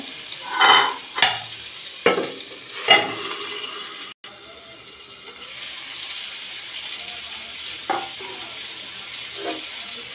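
Fish crisping in a hot pan gives a steady, close sizzle, broken early by a few scraping strokes of a utensil and later by softer, scattered pops and taps.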